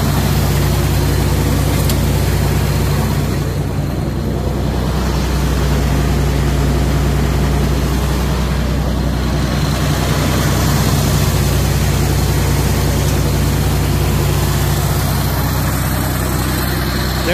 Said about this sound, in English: This tractor sounds just as good as it looks.